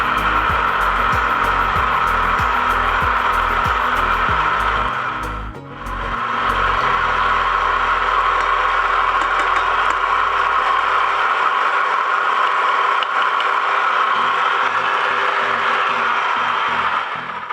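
An electric hand mixer whirs loudly and steadily, whipping egg whites with sugar for a gluten-free angel food cake as the speed is cranked up, with a brief dip midway before the continuous motor drone resumes.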